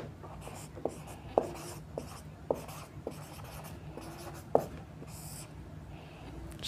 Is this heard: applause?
no